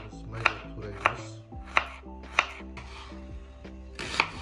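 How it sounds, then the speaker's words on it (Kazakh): Garlic being chopped finely with a knife on a board, five or six crisp, close knife strikes at an even pace, each followed by softer scraping and rubbing, with no talking. "Сарымсағымыз майлап тураймыз."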